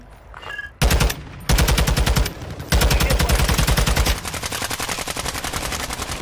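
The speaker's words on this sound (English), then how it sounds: "How did I miss all my shots?" Rapid automatic gunfire in the video game Call of Duty, loud and close, bursts of fast repeated shots in several sustained volleys with brief gaps between them.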